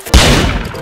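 A single sharp gunshot from Roblox Murder Mystery 2, loud and close, a sudden crack followed by a short decaying boom.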